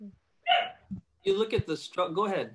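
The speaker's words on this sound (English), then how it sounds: "That was the dog." A dog barks in another room of the same house. A couple of short, muffled barks mix with a person talking close by.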